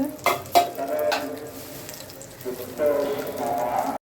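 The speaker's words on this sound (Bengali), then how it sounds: "এই হলো মাংস রান্না করছি আজকে মাংসে একটু আলু পরিমাণটা বেশি হয়েছে" Meat with potatoes fries in a pot in a home kitchen while a spoon stirs it, giving a steady sizzle broken by scraping strokes and clatters.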